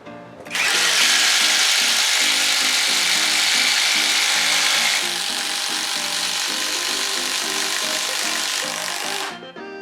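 Bauer brushless impact driver driving a 3/4 inch Irwin self-feed auger bit into a wooden board, a loud, continuous rapid rattling hammer of impacts with a high whine, ending abruptly.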